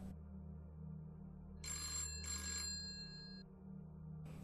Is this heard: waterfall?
no